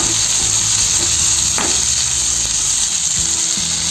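Tomatoes sautéing in a pan for peanut chutney, a steady close sizzle with occasional spatula scrapes and stirs, no voices.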